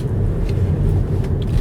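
An XPENG G6 Performance electric car taken briskly through an empty roundabout, giving a continuous low rolling rumble of tyres and road noise from inside the cabin, steady and moderately loud.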